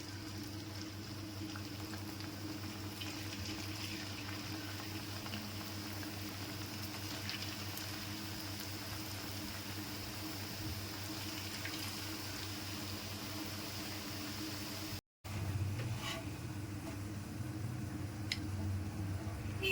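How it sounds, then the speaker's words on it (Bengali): Sliced potato sticks sizzle in hot oil, a steady hissing and bubbling fry that keeps going with faint crackles, briefly cut off before resuming. "হলুদ ছড়িগুলো এবার তেলের মধ্যে দিয়ে দিচ্ছি"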